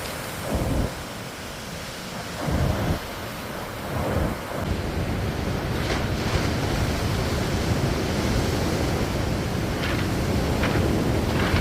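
Ocean surf rolls and crashes on the shore at Luna, La Union, Philippines, in a continuous roar, with a few heavier wave surges early on, steady and moderately loud with no talking.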